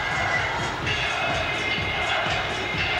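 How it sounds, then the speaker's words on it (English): Dense roar of a large boxing crowd at Wembley Arena, a continuous wash of cheering and chatter echoing through the big hall. "Big crowd at Wembley Arena."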